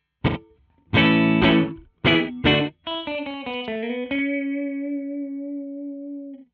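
Short electric guitar notes and a held chord, each thickened by a very quick repeat under 75 milliseconds from a stereo delay pedal, doubling the sound, played alone with no talking.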